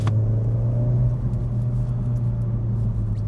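A Renault Megane RS 300 drives in the wet, its engine giving a loud, steady low rumble that barely varies throughout, heard from inside a car following closely.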